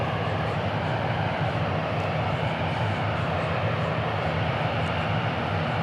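An Iberia heavy jet airliner arriving at DFW Airport makes a steady, broad roar of engine noise that holds constant throughout, with no talk over it.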